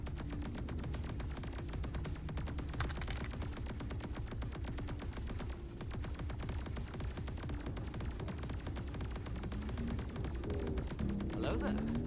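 Rapid automatic gunfire in the space combat game Star Citizen, played in VR: a dense, continuous rattle of shots lasting throughout, with faint talk mixed underneath.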